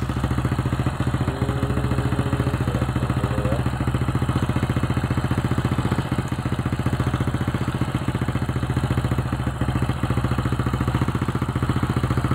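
An old Honda Supra X motorcycle engine idling while its charging coil is checked, a steady close-up putter with rapid even firing pulses and faint mechanical clatter, running alone throughout.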